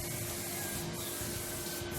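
An aerosol can sprays a final clear coat onto a 1974 Ibanez Les Paul guitar body in a workshop, a continuous loud, close hiss that holds steady with no pauses or talking.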